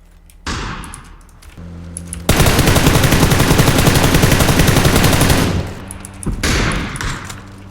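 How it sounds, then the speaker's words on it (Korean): Rapid sustained automatic gunfire in the PUBG Battlegrounds game, a dense loud burst lasting about three seconds, with quieter shots and game sounds before and after. "나 쏜다"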